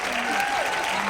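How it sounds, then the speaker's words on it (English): Audience applause, a continuous blur of clapping from a crowd with a voice briefly heard over it during the short burst. "Another big round of applause"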